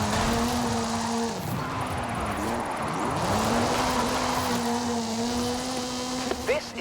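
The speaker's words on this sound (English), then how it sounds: "This is Mr. Kenneth Block's Hoonigan Gymkhana 10 Ford Focus RS RX." Hoonigan Gymkhana 10 Ford Focus RS RX with a 2-litre turbocharged front-mounted engine in Forza Horizon 5, revving loudly and steadily with pitch dips and climbs as it shifts, close up, a voice talking over it.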